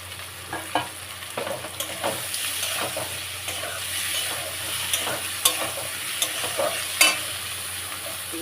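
Fried pointed gourd sizzles in a pan with ginger, dried chilli and soaked cumin, a steady close frying hiss broken by occasional stirring scrapes and clicks, no talking.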